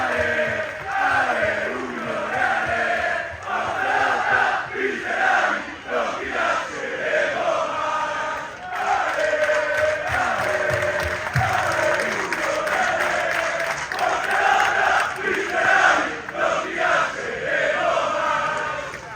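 A crowd at the Venezia FC season presentation applauds and cheers loudly and continuously, dense clapping with shouts rising and falling across the whole stretch.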